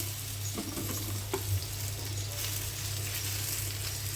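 Chopped potato and bitter gourd frying in hot oil with fried onion and cumin, a steady close hiss of sizzling with a few faint knocks of stirring, no voices.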